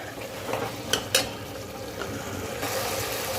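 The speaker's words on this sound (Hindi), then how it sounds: "अभी मैं तेज आंच में ही भून रहा हूँ" Beef kidney masala roasts and sizzles on high flame in a pan, a steady frying hiss with a couple of sharp scraping stirs near the start and the sizzle swelling louder toward the end.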